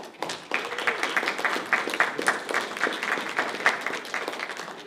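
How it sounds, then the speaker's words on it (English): An audience at a community parks event applauds Stacy, the incoming parks manager, with scattered, moderate clapping that holds steady for several seconds in a room. "let's give Stacy a round of applause"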